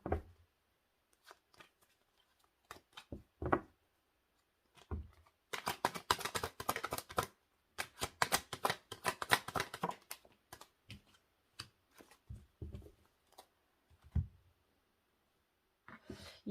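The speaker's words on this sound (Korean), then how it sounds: "추가 카드 뽑아보고 말씀드릴게요" Tarot cards are shuffled and drawn close by, with scattered soft flicks and taps giving way to a dense, rapid riffle burst, then more isolated card snaps in a quiet room.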